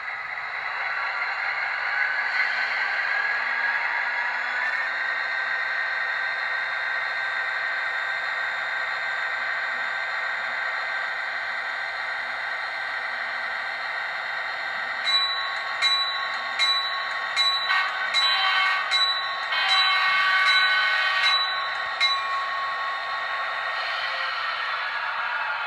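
An HO-scale Atlas GP40-2 model locomotive with an ESU LokSound sound decoder, in Chessie System paint, crawls at speed step 1, giving a steady close diesel engine drone with a run of short bright clicks or chimes partway through, and no talking.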